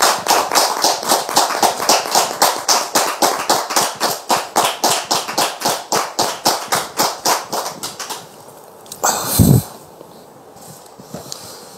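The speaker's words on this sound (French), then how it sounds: "Public, merci de recevoir le frère en question sous vos applaudissements" A church audience welcomes a guest with rhythmic clapping in unison, loud even beats about three per second for roughly eight seconds, then it fades, followed by a single thump.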